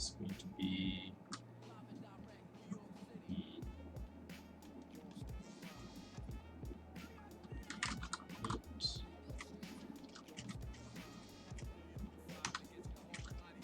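Rapid, irregular clicking of typing on a Mac computer keyboard, close and fairly quiet, with a voice speaking intermittently over the keystrokes.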